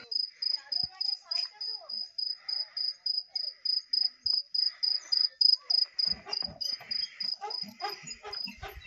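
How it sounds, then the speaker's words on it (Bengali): Crickets chirp at night outside a homestay in the Kalimpong hills, a steady high pulsing trill in even rhythmic bursts, with faint voices and some rustling and knocking toward the end. "ঝিঝি পোকার ডাক।"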